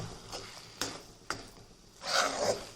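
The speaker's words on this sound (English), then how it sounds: "Now mix it thoroughly so that both banana flour and chana dal paste will mix" Banana flower being stirred with chana dal paste in a pan over a low flame, a few soft scraping strokes followed by a louder, denser stretch of stirring and faint sizzle near the end.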